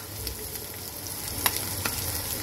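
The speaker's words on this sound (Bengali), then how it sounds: "এখন আমি তেলের মধ্যে সয়াবিনগুলো ছেড়ে দেব।" Boiled soybeans hiss and sizzle in hot oil in a pan, a steady close frying crackle with a few small pops and the light scrape of stirring, no voices.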